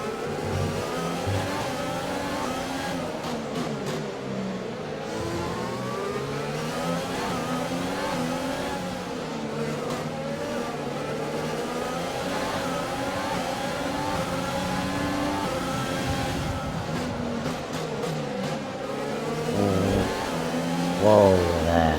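An F1 car from the F1 2020 game races through the Singapore Grand Prix, its engine screaming steadily at high revs with repeated upshifts and downshifts, loud and continuous throughout.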